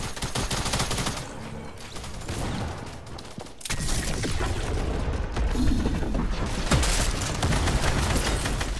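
Rapid bursts of gunfire in the Fortnite video game, dense volleys of automatic shots with a brief pause midway, then more heavy, close firing continuing to the end.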